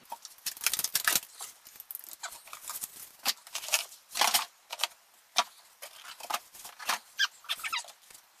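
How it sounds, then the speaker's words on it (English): Scissors cutting material during a home renovation job, giving a series of sharp, crisp snipping bursts in an irregular rhythm, close by and moderately loud, with no talking. "I need some scissors to cut that."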